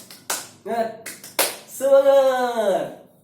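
Indonesian 'tepuk semangat' rhythmic group clapping by a room of women, a few sharp claps in a pattern, followed by voices chanting together.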